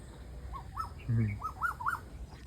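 An Asian koel calls near a village in Botad, giving a short series of rising, whistled notes, moderately close, over a soft rustling background.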